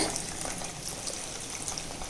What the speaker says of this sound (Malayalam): ഇനി ഇതിലേക്ക് കുറച്ച് വെള്ളം ഒഴിക്കാം.